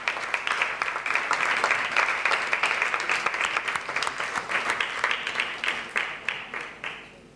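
An audience at a round-table discussion on surrealism applauds steadily, a sustained, fairly loud round of dense clapping that thins out toward the end.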